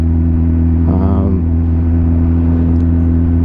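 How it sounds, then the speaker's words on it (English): A 2007 Kawasaki Z1000 (ZR1000B) superbike engine runs steadily nearby with a strong low hum, briefly rising in a short throttle blip before settling back to idle. "I got this bike, a Kawasaki Z1000. It's a ZR1000B."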